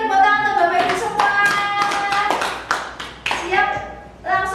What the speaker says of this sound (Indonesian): tepuk tangan untuk Bapak Ibu semua